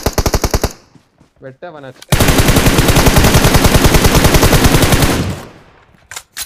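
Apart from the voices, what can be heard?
gunfire in video game Battlegrounds Mobile India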